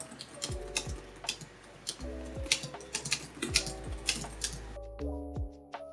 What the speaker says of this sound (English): This is how the keyboard sounds.